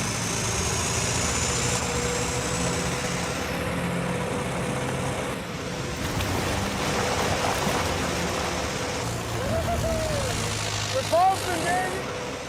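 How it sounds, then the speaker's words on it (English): A 6-inch water pump engine at a gold mine cut runs loud and steady, its revs climbing slightly, with a continuous roar throughout and a few faint vocal sounds near the end. "So we pump up the revs a bit."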